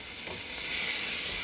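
Tomatillo and onion frying in a pan for picadillo de gallina, a steady close sizzle that swells slightly louder toward the end, with no voices.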